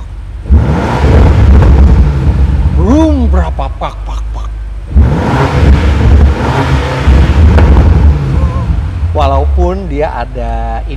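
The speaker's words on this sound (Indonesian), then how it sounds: "langsung deruman knalpotnya lebih besar. Dan kalau kita gas," Land Rover Defender engine revved hard through a loud exhaust, two long throaty bursts of deep rumbling roar that swell and fall back, loud and close, with people talking over and between them.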